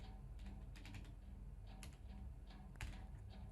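Computer keyboard tapped while writing PHP code, a quiet scatter of light key clicks in short irregular bursts over a low steady background hum.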